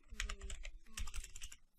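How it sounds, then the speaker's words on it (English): Quick, soft clatter of keys on a computer keyboard, two short bursts of typing close by and quiet, with no talk. "Let's just type in Codeblocks."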